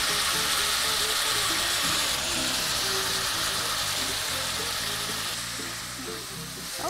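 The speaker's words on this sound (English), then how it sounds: "our oil is nice and hot, so I'm gonna go ahead and add our meat" Seasoned wild game meat hits hot oil in a pan and sizzles in a loud, steady, crackling hiss, close up, with faint stirring and clatter underneath.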